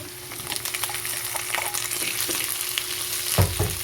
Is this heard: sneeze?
no